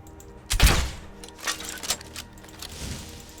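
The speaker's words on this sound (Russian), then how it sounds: "А арбалет, он вроде бы так медленно перезаряжается, но тут врывается такой вот эксплойт на быструю стрельбу" A crossbow fired rapidly in Skyrim using a quick-shot exploit: a loud opening thunk followed by several quicker, softer shots in an uneven rhythm, with no talk.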